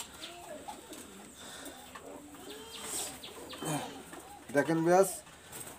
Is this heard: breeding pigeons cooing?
yes